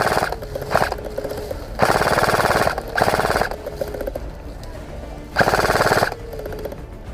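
Airsoft guns fire in loud, rapid automatic bursts, several strings of shots separated by short pauses, close by during an outdoor skirmish with no talking.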